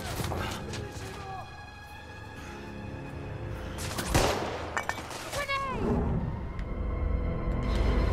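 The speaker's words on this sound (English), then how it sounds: "I'm under heavy fire." Heavy gunfire rattles through a battle in The Order: 1886, with bursts and impacts layered over music and ambient combat noise, loudest around the middle of the clip.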